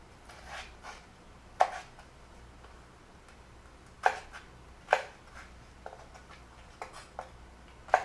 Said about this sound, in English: The rest of the celery you can cut together with the leaves.